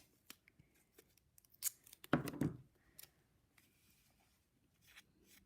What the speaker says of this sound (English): I'm going to snip that string.